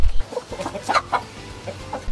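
A Brahma chicken clucks close by in several short, uneven calls spread across a brief moment.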